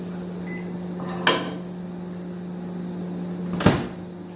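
A microwave oven holding upma is opened and shut, giving two sharp door clunks about two seconds apart over a steady electrical hum.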